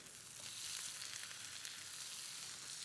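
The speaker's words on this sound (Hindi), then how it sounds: "now we add the shrimp" Shrimp and sliced onions fry in hot oil in a pan, giving a steady, dense sizzle that carries on alone at a fairly even level with no talk.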